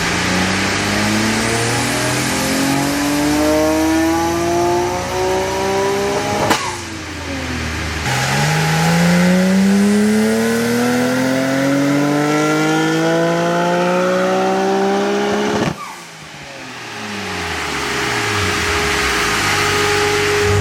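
A modified car engine revs hard and climbs through the gears, with a fairly restrained exhaust note, loud and close with rising pitch sweeps broken by two brief shift drops.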